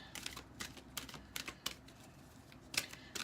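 Tarot cards shuffled by hand give quiet, irregular papery riffles and taps, several short bursts close to the microphone with no voice.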